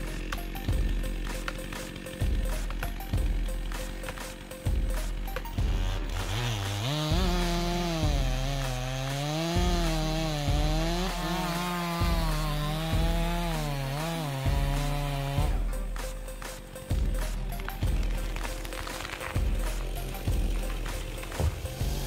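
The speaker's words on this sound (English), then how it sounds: "The portability of chainsaws makes them able to operate anytime, anywhere, creating favorable conditions for logging during such snowy times." A long chainsaw cuts through a large palm tree: steady repeated mechanical clacks give way to a loud, wavering engine whine under load, then the clacking rhythm returns. No voices are heard.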